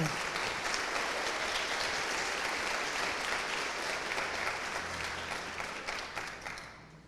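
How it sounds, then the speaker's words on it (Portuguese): A church congregation breaks into sustained applause, a dense wash of many hands clapping together that stays loud throughout, then thins and fades near the end. "pode aplaudir o Senhor"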